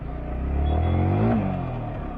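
A Yamaha R15 V4 motorcycle engine revs up near a railway station, a low rumble swelling to a peak mid-clip and then easing back to a steady idle.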